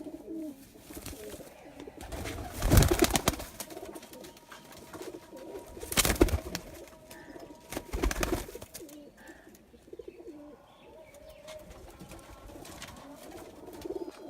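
Red-necked pigeons coo softly from a rooftop loft, low repeated murmuring calls with a few louder bursts of nearby handling noise, faint and steady throughout.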